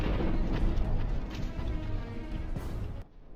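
An abandoned Russian T-72 tank explodes after a drone strike, giving a loud, sustained rumbling blast with crackling debris that runs for about three seconds before cutting off abruptly.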